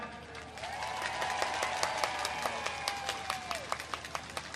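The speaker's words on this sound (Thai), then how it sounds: "ผมขอความร่วมมือขอได้เสียงดัง ๆ ปรบมือ" A crowd at an outdoor political rally in Don Mueang applauds, with brisk scattered clapping and a few sharp claps standing out while a faint voice or whistle rises and falls through the middle.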